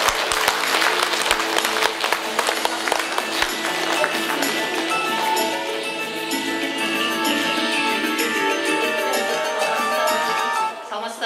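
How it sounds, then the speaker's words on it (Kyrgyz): Audience at a Mother's Day celebration applauding, dense sustained clapping from a large crowd, loud and continuous throughout before tapering slightly at the end. "Кол чабуулар болсун."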